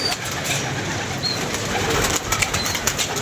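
Pigeons coo softly amid a busy outdoor bird setting, with faint chirps and a steady background hiss; the cooing sits low and muffled, no talk heard.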